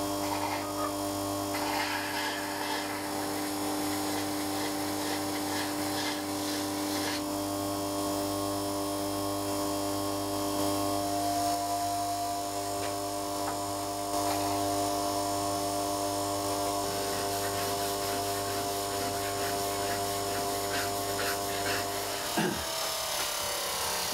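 Parkside bench grinder running steadily while wood chisels are sharpened, a continuous motor whine with grinding hiss from the steel on the wheel, loud and close without pause, winding down at the very end.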